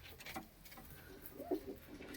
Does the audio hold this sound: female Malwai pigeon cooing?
yes